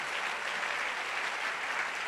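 A church congregation claps together in a dense, steady burst of applause that fills the space evenly and loudly.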